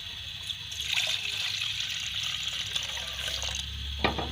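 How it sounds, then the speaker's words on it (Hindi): Water poured into a cooking pot before boiling peas for noodles, heard as a steady splashing, trickling stream running close and continuously, with a small knock near the end. "ये पतीली ली हुई है, इसके अंदर डालेंगे हम पानी।"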